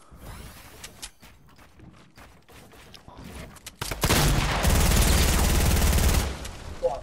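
Video game gunfire: scattered sharp shots early, then a loud, sustained rapid burst of automatic fire lasting about two seconds before cutting off.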